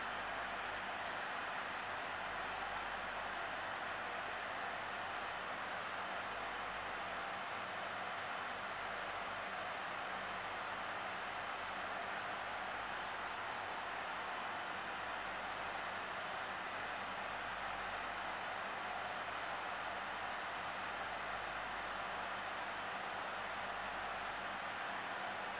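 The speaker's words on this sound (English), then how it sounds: "You can hear that the fans have started to ramp up from the very starting itself." An Asus ROG Zephyrus G15 (2021) gaming laptop's cooling fans run hard during a Cinebench benchmark, a steady, faint broadband whoosh that holds without change for the whole stretch, with no talking.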